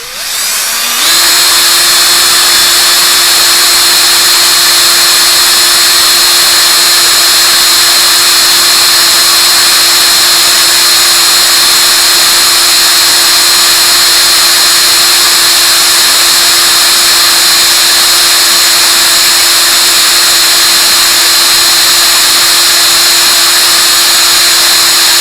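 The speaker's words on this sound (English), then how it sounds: "Once you start a hole drilled, you can get the speed picked up a bit." A power drill runs at a steady high whine through a hole in RC car parts, loud and continuous after a brief spin-up, with no talking.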